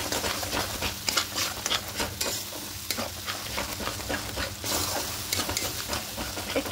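Ground spices (coriander, cumin, Kashmiri chilli) stirred into oil in a pan, a continuous close sizzle with repeated scraping strokes of a spoon, fairly steady throughout.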